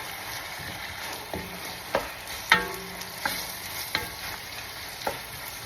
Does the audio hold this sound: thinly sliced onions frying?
yes